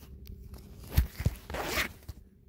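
A zipper is worked on Nike mesh basketball practice shorts with a stitched Denver Nuggets logo, giving a few short close scrapes and a quick rasping pull, with light handling rustle around them and no voices.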